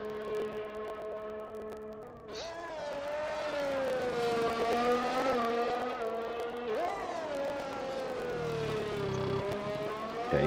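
In the F1 2021 video game, a race car at Singapore runs a flying lap, its engine whining high and steady as revs climb and fall through gear changes and corners, loud and continuous, with faint commentary talk underneath.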